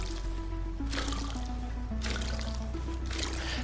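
Watering crops in the video game Lightyear Frontier gives bursts of splashing, pouring water that recur in a rough rhythm over a steady tonal machine drone.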